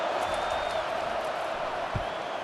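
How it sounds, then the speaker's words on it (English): Home crowd roaring in College Football 25, an Alabama Crimson Tide at LSU Tigers game on PS5: a dense, steady wash of crowd noise with no breaks and no clear peaks. "how nice is it to have the home crowd going absolutely bananas?"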